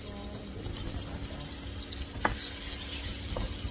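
Meat hits a pan of garlic browned with tomatoes for pinakbet, giving a steady, moderately quiet sizzle and frying hiss with a short scrape or clink near the end.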